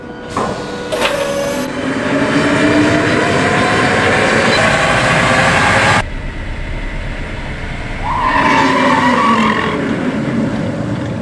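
Loud mechanical roar of an electric vehicle's tires spinning on factory roll-and-brake test rollers, rising and steady, with a sharp cut near the middle and a whirring surge that builds again.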